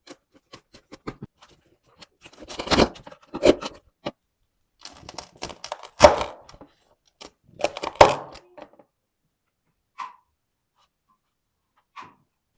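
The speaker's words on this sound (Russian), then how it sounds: "Достаем и нарезаем на порции, пока он еще горячий." A knife cuts through a hot homemade Turkish cheese börek with crisp layered pastry, giving scattered close crunching and scraping bursts with quiet gaps between them.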